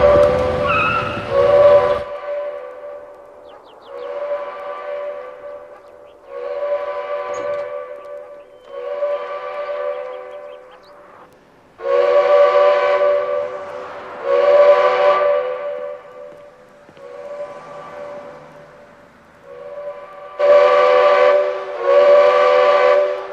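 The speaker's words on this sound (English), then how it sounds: "Sound the powerhouse whistle." A prison powerhouse steam whistle blows repeatedly in long, loud blasts with short gaps between them, sounding out alone.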